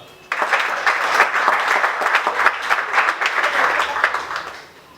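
Guests at an honouring reception for a dental surgeon applaud as a master enters the hall, clapping starting abruptly and continuing in a lively, uneven burst for several seconds before easing.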